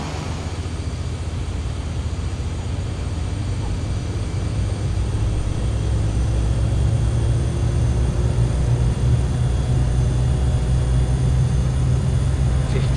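An aircraft engine at full takeoff power in the flight simulator FSX, departing Lukla into mountains, drones loudly and steadily, a constant propeller-and-engine roar that builds slightly as it climbs, with no talk over it.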